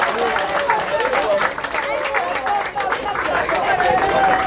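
Audience at a youth running race clapping for the U9 category runners, a steady outdoor round of applause and crowd chatter, with an announcer speaking over it.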